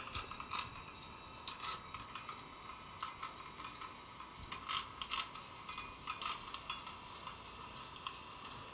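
Levers on an engine-turning guilloche machine move the cutter in and out of the workpiece, a faint, irregular run of small mechanical clicks and ticks over quiet room tone.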